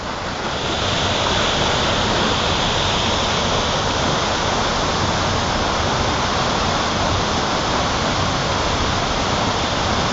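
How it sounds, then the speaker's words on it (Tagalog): Dawara Falls pouring in a dense, steady roar of rushing water, loud and close, continuous broadband noise with no voices. "Let's go under the falls."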